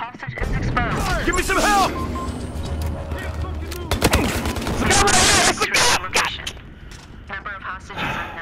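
Gunfire in the video game Battlefield Hardline crackles in quick bursts with booms and mechanical clatter, heard through the near, loud shouting of players.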